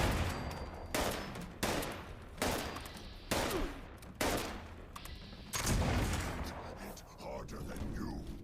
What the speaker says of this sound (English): the Black Powder Pistol is actually really good